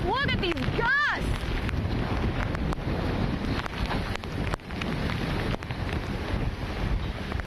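Strong wind gusts in the aftermath of Hurricane Delta roar and buffet the microphone in heavy surges, with rain and a brief rising whine early on, while a person talks intermittently.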